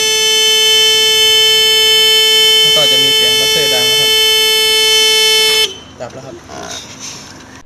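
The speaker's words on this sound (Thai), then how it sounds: "อันนี้สมมตินะครับเมื่อเป็นกระดิ่งไฟฟ้าครับเมื่อมันทำงานหลอดไฟตรงนี้จะติด" An electric school bell on a PLC-controlled model rings as a loud, steady tonal buzz for about five and a half seconds, then cuts off abruptly. Someone talks over the bell and continues briefly after it stops.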